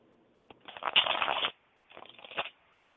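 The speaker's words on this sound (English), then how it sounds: "Let me shuffle a few times." Tarot cards are shuffled by hand in two quick bursts of riffling, papery flutter, close and crisp, separated by a short pause in an otherwise quiet room.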